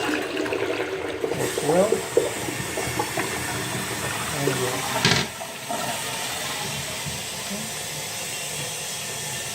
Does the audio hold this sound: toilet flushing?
yes